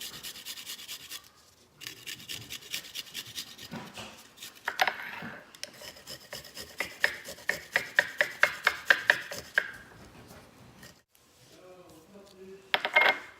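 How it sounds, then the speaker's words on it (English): Garlic shredded on the smallest holes of a small grater: fast, rhythmic scraping strokes in quick runs with brief pauses between, close and fairly crisp, with a voice speaking faintly at moments. "So I shred the garlic like this in small pieces."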